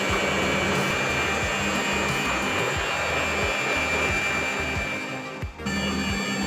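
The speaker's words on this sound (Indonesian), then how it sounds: "Oke, kita nyalakan mixernya, kecepatannya yang paling pelan saja dulu." Stand mixer kneading pizza dough with wheat flour at its lowest speed, a steady loud motor whir with a faint rhythmic churning that runs continuously, dipping briefly near the end.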